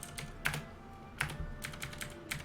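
Computer keyboard clicking during keyboard-only play of Final Fantasy XI, with clusters of quick key taps in irregular bursts, near and moderately quiet, and no talk.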